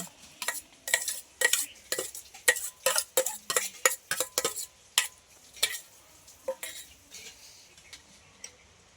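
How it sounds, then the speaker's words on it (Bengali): A fork or spoon beating mushrooms into egg for an omelette, a busy run of quick clinking strokes against a bowl, fairly close, thinning out toward the end, with no voices. "এবার মাশরুমটা ডিমের সঙ্গে মাখিয়ে নিব।"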